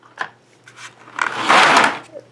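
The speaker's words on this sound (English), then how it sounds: "in this drawer, which does not slide out very easily, I can't really push it out with one hand" A stiff makeup drawer that does not slide easily is pulled, giving a short scrape and then a louder, longer rubbing slide, recorded up close with no speech.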